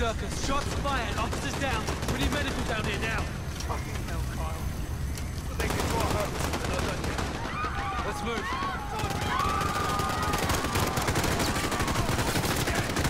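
Rapid gunfire in the Call of Duty Modern Warfare campaign, with pistols and other weapons cracking in dense, continuous bursts alongside explosions, loud and close, while voices talk over the combat.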